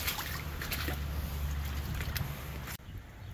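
Rainwater runs steadily through a diversion swale in a Central Texas landscape after heavy May rain, a continuous close trickling wash with faint scattered splashes, briefly cut off near the end.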